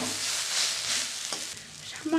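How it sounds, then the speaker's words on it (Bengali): Lentil dumplings (bori) fry in a pan with a steady, hissing sizzle, with a faint clink near the end. "একটু বড়িগুলো গালিয়ে দিচ্ছি"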